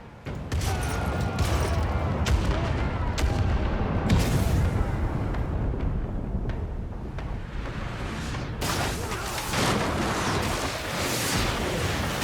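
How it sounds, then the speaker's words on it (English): Ship cannons in a naval video game fire grape shot in a rapid volley of heavy booms and cracks that layer into a continuous rumbling barrage. A second loud burst of shots comes near the end. "So, grape shot. Let's fire."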